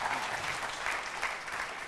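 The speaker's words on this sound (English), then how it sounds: "Let's give them all a round of applause" Audience applause for panelists at a Shell energy forum, a steady wash of many hands clapping that stays fairly even and moderately loud for the whole stretch, with no voices over it.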